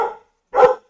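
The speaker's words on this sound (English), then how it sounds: "you can hear my lovely Australian Shepherd barking away" An Australian Shepherd barks twice, each bark loud and close, the two separated by a short silence.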